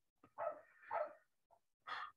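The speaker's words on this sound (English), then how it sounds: "I don't know why my dog is barking" A pet dog barks in three short bursts from inside a home, with brief pauses between the barks and a small yip in the middle.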